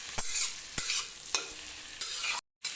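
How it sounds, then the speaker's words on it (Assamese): Squash frying with ground spices, sabji masala and coriander powder crackles in a close, bright sizzle, cut by sharp scraping stirs about every half second, then a short sudden stop. "এতিয়া এইখিনি মই আৰু অলপ 10 মিনিটমান ভাজিম"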